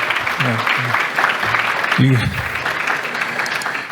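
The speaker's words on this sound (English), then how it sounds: "You can clap for that." An audience at a game-industry conference talk applauds, producing a steady, dense wash of clapping throughout, with a voice speaking over it.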